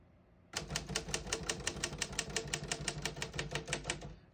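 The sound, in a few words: vintage manual typewriter typing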